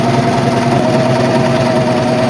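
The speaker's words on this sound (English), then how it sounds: "I'm just gonna do a rolled hem with my serger across the bottom and then across this top band as well" A serger sews a rolled hem across fabric, a loud, close, continuous mechanical whir that runs evenly with no pauses.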